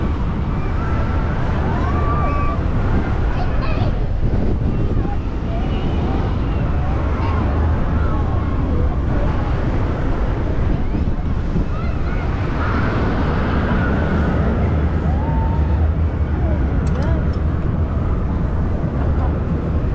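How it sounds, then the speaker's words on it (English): Strong wind buffets the microphone on the Starflyer, a tall swing ride at Hyde Park Winter Wonderland, as a loud continuous roar that stays steady throughout, with voices heard faintly under it. "That's very windy, actually. Very windy."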